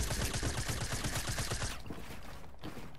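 Rapid gunfire in the video game Fortnite, a fast burst of repeated shots close and loud for about a second and a half before cutting off to quieter game ambience.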